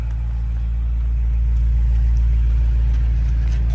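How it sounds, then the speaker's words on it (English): BMW M5 Touring engine idling, a steady low rumble holding even and continuous throughout with no speech. "You can hear that engine."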